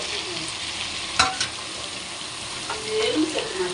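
Ginger garlic paste sautéing in a pan for chicken biryani gives a steady soft sizzle, with a spoon scraping and stirring now and then and one sharp clink near the middle.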